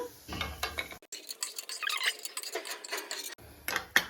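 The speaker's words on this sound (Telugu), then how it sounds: "గోడంబి గోల్డెన్ కలర్ వచ్చేంత వరకు వేయించుకుంటాము." Cashews frying in a pan until golden, with a rapid run of close spoon scrapes and clatter over a light sizzle.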